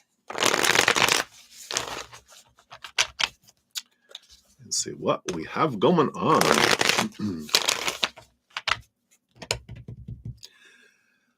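Tarot cards are shuffled in several crisp riffling bursts, with a person speaking briefly between them.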